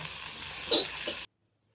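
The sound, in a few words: spice paste frying in oil in a kadai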